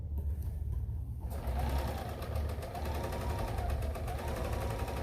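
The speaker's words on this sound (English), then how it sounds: "I think it's actually really quiet for a serger." A serger sewing machine runs continuously after a quieter start, its rapid rhythmic stitching chatter steady and fairly close, with no talking.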